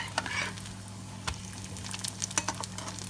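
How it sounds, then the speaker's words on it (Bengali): Roti fries in white cooking oil, a short stretch of close sizzling hiss with scattered sharp spits and a clunk from the pan, over a low steady hum. "আমি সাদা তেল দিয়ে ভাজছি"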